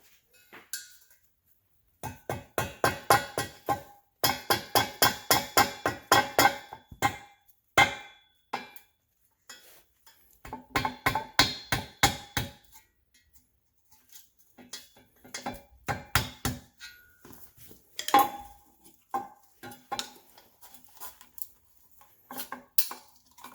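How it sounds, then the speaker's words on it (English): Clattery metallic tapping and scraping as a flathead screwdriver pries a mangled part off the header area of a 1988–91 Honda Civic/CRX, coming in irregular close bursts with quiet gaps between. "I'm gonna get a flathead screwdriver and pop this one off"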